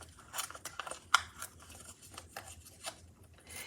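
Scissors snip through paper during a card-making session, a few quiet, irregular cuts close to the microphone with faint handling rustle and no talk.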